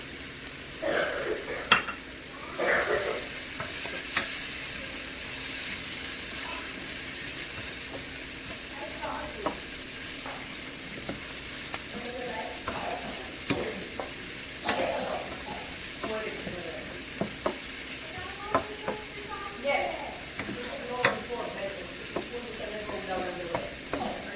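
Curry leaves hiss and crackle in hot oil with frying potato, tomato and egg for a poha dish. A steady, close sizzle runs throughout, with occasional stirring clatter and someone talking intermittently.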